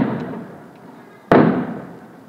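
Outdoor fireworks set off on June 30th: a low rumble of earlier blasts fades out, then one sudden loud, sharp bang lands close by and decays over about a second.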